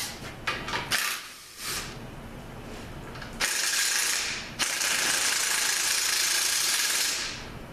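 A socket ratchet clicks rapidly on bell housing bolts, with several short bursts of close, sharp ratcheting followed by longer sustained runs of clicking.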